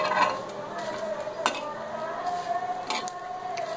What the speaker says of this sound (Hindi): ये सभी मसाले हम बहुत हल्की आंच पर भूनेंगे।